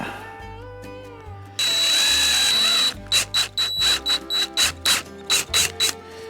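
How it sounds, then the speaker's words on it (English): A power drill whines in a sustained burst drilling into metal for a truck bumper, then runs in repeated short pulses, loud and close, with a low motor hum between bursts. "I gotta tell you, this stuff is drilling very well"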